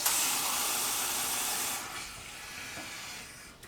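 Hot water poured from a tap into a cooking pot for plain white rice, a steady loud hissing rush that drops off sharply partway through, leaving a fainter trickle.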